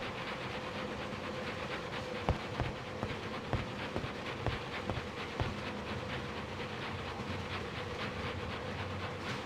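Interior ambience aboard the luxurious Orient Express train in a Murder on the Orient Express video game: a low steady rolling rumble with faint rhythmic clacks of wheels over rail joints, quiet and continuous, no voices.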